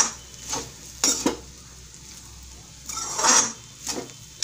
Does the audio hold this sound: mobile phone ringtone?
no